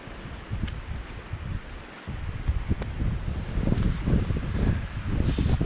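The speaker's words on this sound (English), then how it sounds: "Still windy." Wind gusting outdoors at a campsite in Nova Scotia, a continuous low blustery roar with rustling that strengthens after a brief lull, close to the microphone.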